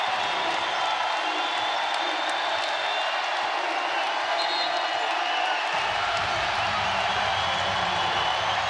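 Arena crowd at an NCAA women's basketball game between Baylor and Grand Canyon roars and cheers steadily throughout, a dense sustained wash of voices that swells slightly toward the end.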